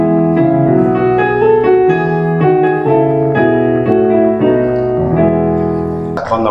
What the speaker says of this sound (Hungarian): a holland himnusz,